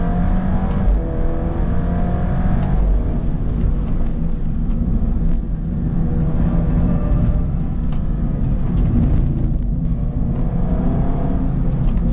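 A rear-wheel-drive Alfa Romeo Giulia with a Stage 3 tune accelerates hard, its engine note rising and falling through repeated revs and gear changes, loud and close with a deep rumbling exhaust throughout.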